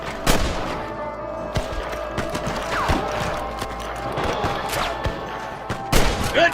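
Gunfire in the Western video game Red Dead Redemption: sharp, irregular shots and cracks spread across several seconds, some close and loud, others overlapping in a scattered firefight.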